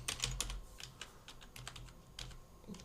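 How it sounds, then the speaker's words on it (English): Fingers tap out a short burst of keystrokes on a computer keyboard, crisp close clicks in uneven clusters with brief pauses, alone and quiet with no talking. "press tab and type trail."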